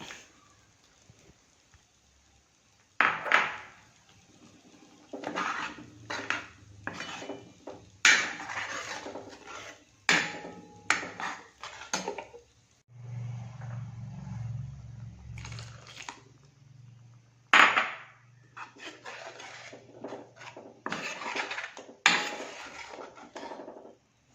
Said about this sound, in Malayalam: നമ്മൾ അരച്ച് വെച്ചിരിക്കുന്ന അരപ്പ് ഇതിലേക്ക് ചേർത്ത് ആവശ്യത്തിന് വെള്ളം ഒഴിച്ച് ഇളക്കി യോജിപ്പിച്ചിട്ട് തിളപ്പിച്ചെടുക്കാം